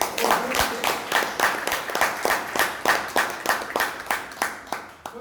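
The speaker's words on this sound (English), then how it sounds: "a huge round of applause for you" An audience at a Toastmasters meeting in Bangalore claps steadily, with dense overlapping handclaps throughout, fairly close and with no voices.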